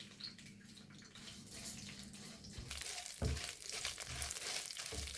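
Mustard seeds and lentils fry in hot oil for a sambar, giving a steady close sizzle with sharp crackles and a stronger burst partway through, and no voices.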